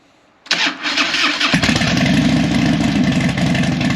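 A Harley-Davidson Dyna motorcycle engine cranks briefly after a moment of quiet, catches with a sharp burst, then settles into a loud, lumpy, rhythmic idle close by.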